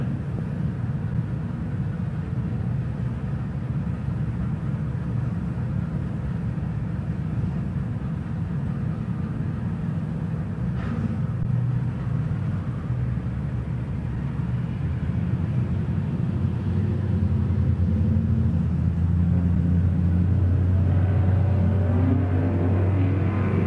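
A 1950 Chevy and a 2016 Dodge Charger Hellcat drag race at a track. Their engines make a loud, steady rumbling roar that carries on at a distance throughout.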